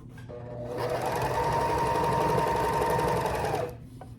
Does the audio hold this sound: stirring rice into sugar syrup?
no